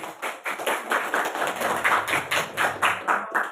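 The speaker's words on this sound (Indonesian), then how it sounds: "Kita kasih aplaus buat kelompok 1." A class applauds after a group presentation, with a steady run of brisk, fairly close claps in an even rhythm and no talk over it.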